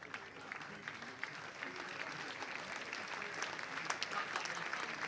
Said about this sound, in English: Applause well deserved for the Somerset all-rounder